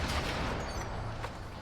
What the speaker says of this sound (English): And look, it's firing cannons.